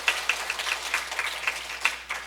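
Small audience at a Sunday church Bible school clapping in thanks to a lecturer: sharp, separate claps at a brisk, fairly even rhythm, moderately near and fading slightly toward the end.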